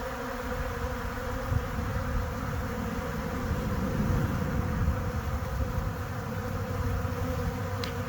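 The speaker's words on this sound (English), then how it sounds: "Love that sound of bees." Honey bees buzz in a bee yard on a warm January day as a steady, dense drone that holds evenly from start to finish.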